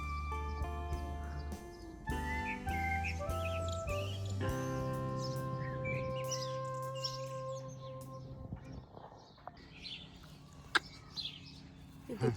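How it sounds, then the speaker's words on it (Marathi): Small birds chirp and tweet around plants, with bright repeated calls over a steady tonal background that fades toward the end. "पक्ष्यांचा इथे किती आवाज चालू, तिथं बसून चिव चिव करतात."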